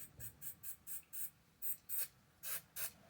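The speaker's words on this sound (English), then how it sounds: "just lightly spray the PCB" A series of short hissing aerosol sprays onto the circuit board of a Honda Civic FN2 rev counter, about ten quick bursts in an uneven rhythm, close and fairly quiet.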